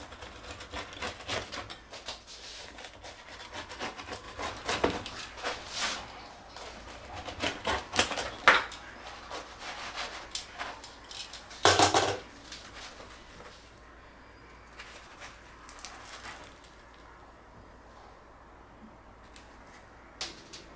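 A homemade pizza is sliced with a series of crunchy, clicking cuts through the crisp crust, louder bursts in the first half giving way to quieter handling.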